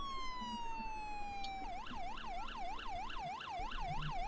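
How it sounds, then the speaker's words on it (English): An emergency vehicle siren in the game ERR sounds loud and near, first a long falling wail, then a fast rising-and-falling yelp that repeats steadily. "I've already tested my lights and sirens"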